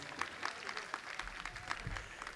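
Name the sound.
audience applause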